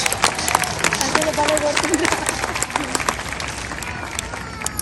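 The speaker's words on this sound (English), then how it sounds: "Let's give them a big round of applause and welcome them back to the stage." A crowd applauds at a California sea lion show at the Long Island Aquarium in New York, with scattered clapping mixed with crowd noise and voices and some whistle-like tones, moderately loud and fairly busy.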